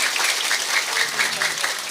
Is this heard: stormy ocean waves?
no